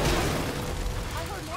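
A bomb explodes in the video game Marvel's Spider-Man, a dense, rumbling low boom that fills the scene and trails into a sustained roar with scattered crackling debris, while game dialogue plays over it.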